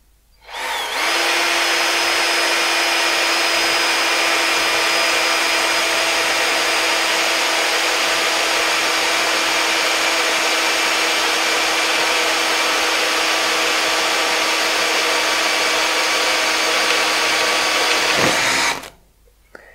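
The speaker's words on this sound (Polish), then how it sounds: "Metal, profil metalowy grubości 2 mm, wiertełko szósteczka. Przestawimy sobie na wiercenie." Makita HP457DWE cordless drill boring through a 2 mm metal profile with a 6 mm bit, one loud, steady whine held for about seventeen seconds before it stops.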